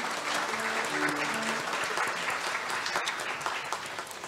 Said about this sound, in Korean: 교육자상 수상하신 두 분께 다시 한번 큰 박수 부탁드립니다.